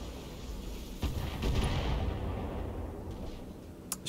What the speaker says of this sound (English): Shooting us and missing.